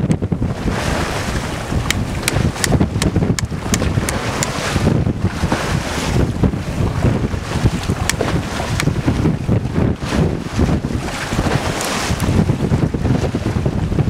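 A sailboat with jute sails pushing through strong wind and some swell off the African coast, with steady gusts buffeting the microphone and waves splashing against the hull throughout.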